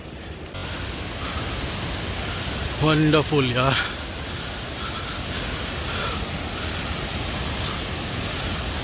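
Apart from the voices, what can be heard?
waterfall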